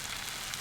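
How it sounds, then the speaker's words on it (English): Steady, bright crackling sizzle of small tortillas frying in hot oil, even and continuous, heard close up with no voices. "when you put it in the oil, you want it to just sizzle straight away"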